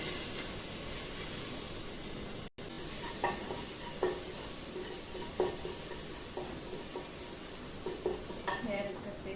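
Grated carrot fries in a pan under a soft, constant sizzle. Nearby, a utensil stirs and scrapes at irregular moments, with one brief dropout early on and no talking.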